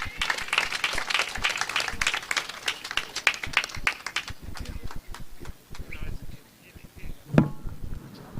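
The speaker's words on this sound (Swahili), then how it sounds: "Let us give him a more round of applause." An audience claps at a celebration for nurses and midwives in Kenya. Dense, close applause runs for about five seconds, then thins into a few scattered claps with faint background noise.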